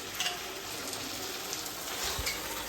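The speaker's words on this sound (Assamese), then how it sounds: "ভাজি কণ্টিনিউ হৈ আছে" Food fries in a pan with a soft, even hiss and faint crackle, quiet and continuous over a short stretch.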